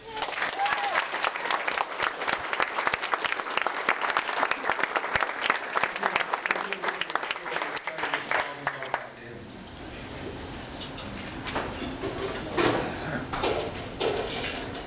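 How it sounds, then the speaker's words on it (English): A round of applause at a Spaulding Rehabilitation golf classic charity event, dense clapping from a crowd for about nine seconds before fading into softer scattered claps and room murmur. "let's have everyone give a round of applause for a good friend of mine that I met today, Brendan Miller"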